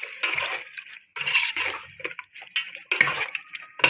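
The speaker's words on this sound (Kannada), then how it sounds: "ಇವಾಗ ಎಲ್ಲ ಮಿಕ್ಸ್ ಮಾಡ್ತಾ ಇದ್ದೀನಿ." Chicken biryani mixture being stirred in a pot, giving wet, sloshing scrapes and splatters in irregular bursts, close and fairly loud with brief pauses between strokes.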